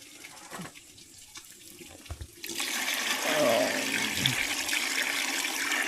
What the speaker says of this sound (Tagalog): At tinalagyan na rin po ng tubig.